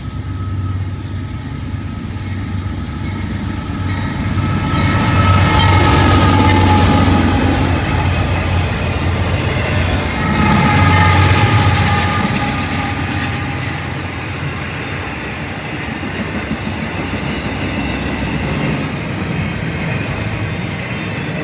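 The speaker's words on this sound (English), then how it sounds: "Next train was a Norfolk Southern Intermodal with two AC-44s" A Norfolk Southern intermodal freight train led by two AC-44 locomotives rolls past loud and steady, engine drone swelling twice as the units go by, then a long continuous rumble of wagons on rails.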